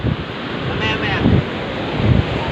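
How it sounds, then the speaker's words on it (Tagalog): Strong surf roars steadily at a beach over gusting wind buffeting the microphone, with voices speaking briefly over the rushing water. "Yung alon, ang lakas, grabe."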